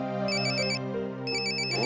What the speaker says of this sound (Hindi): मामा फोन आ गया।